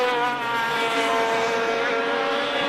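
TAG 125 Masters class racing karts at a Victorian Kart Championship round scream past on track, their high-revving two-stroke engines forming a loud, steady, buzzing whine with a slight pitch drift as they go by.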